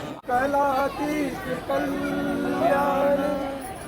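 Crowd chatter fills Baijnath Dham temple, a steady babble of many overlapping voices at close range, with chanting or sung tones rising through the general hubbub.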